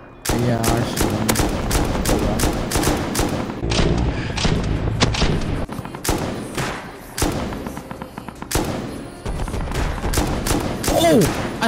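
Gunfire in the modded game Rust, with rapid bursts of loud close shots, dense automatic volleys and scattered single cracks running throughout, broken by brief pauses.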